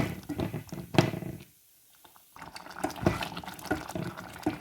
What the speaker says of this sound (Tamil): இப்போ நான் கொஞ்சம் புளி விட போகிறேன்.